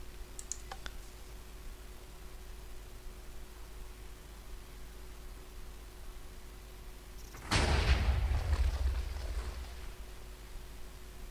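A Minecraft firework launches abruptly partway through, a sharp burst with a lingering crackling rumble that decays over a few seconds after a long stretch of quiet background hiss and a few faint clicks.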